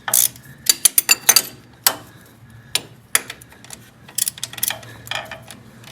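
Ratchet socket wrench with a 17 mm socket tightening a bolt on a 1965 VW Beetle engine, giving bursts of quick metallic clicks in short strokes, close and fairly loud, with pauses between strokes.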